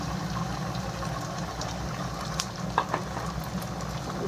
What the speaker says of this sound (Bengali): এখন এর মধ্যখানে দিয়ে দেবো এই যে ডিমগুলো দিয়ে একটু ভেজে নেব।